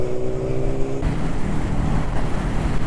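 A Ducati Diavel motorcycle engine idles and rumbles steadily nearby, a low continuous throb with a slight shift in tone partway through, heard alone with wind noise and no talking.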